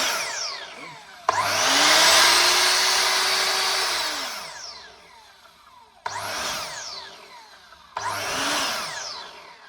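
Skil MS6305-00 sliding mitre saw motor spinning up loudly, running for about three seconds and winding down, then two shorter bursts of startup and rundown, close and alone.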